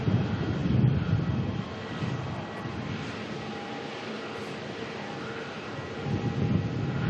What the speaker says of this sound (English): Jetstar down here firing up at the moment.